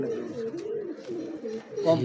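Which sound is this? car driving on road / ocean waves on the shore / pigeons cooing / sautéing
pigeons cooing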